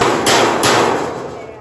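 Hammer driving a nail during home renovation work, three sharp, loud, close blows at an uneven pace with a short ringing tail.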